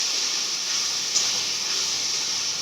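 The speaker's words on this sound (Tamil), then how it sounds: "மீன் குழம்பு கொதிக்குது." A pot of fish curry (meen kuzhambu) boiling on the stove gives off a steady, even hiss of steam and simmering, continuous and fairly close with no voices.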